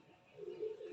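Red-eyed pigeon cooing softly, a low steady coo that swells toward the end of a brief moment, close by and alone.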